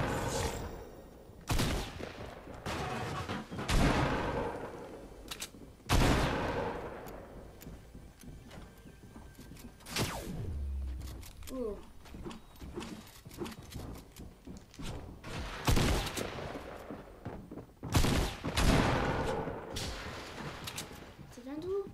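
Repeated bursts of gunfire in the video game Fortnite crack out in clusters at an uneven rhythm over a dense game soundscape, loud and near, with someone talking over it.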